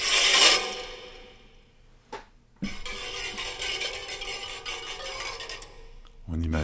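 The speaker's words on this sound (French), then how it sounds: "On imagine le bâton qui se promène sur les rails. C'est un instrument qui peut faire de bons effets." A stick drags and scrapes along metal bicycle wheel rims played as an instrument, producing rough grinding rasps with a ringing metallic shimmer, close up, with a sharp knock partway through.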